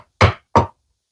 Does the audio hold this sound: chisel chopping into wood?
yes